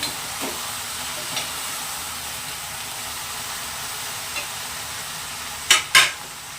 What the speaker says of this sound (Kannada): ಹೀಗೆ ಫ್ರೈ ಮಾಡಿ ನೀಟಾಗಿದು ಫ್ರೈ ಆಗಲಿ.